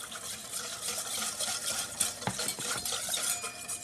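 Whisking in a bowl for a gluten-free berry dacquoise, a close, steady run of quick scraping, clinking strokes with no talking.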